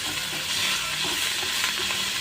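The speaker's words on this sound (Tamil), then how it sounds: "நல்லா பச்சை வாசம் போகிற அளவுக்கு நல்லா வதங்கணும். முட்டைக்கோஸ் நல்லா வதங்கணும்." Cabbage, tomato and curry leaves sauté in a pan, giving a continuous dense, loud hiss of sizzling with no distinct stirring strikes.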